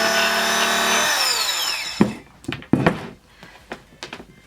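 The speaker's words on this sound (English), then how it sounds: "I use an electric knife" An electric knife trims folded fabric for reusable makeup wipes, its steady motor whine running close for about two seconds before cutting off, followed by scattered knocks and handling clicks.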